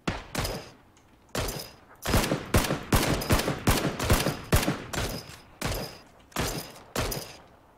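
Bursts of gunfire from the video game PUBG Battlegrounds, about a dozen loud sharp shots in quick irregular groups with short gaps between them, heard alone without talk.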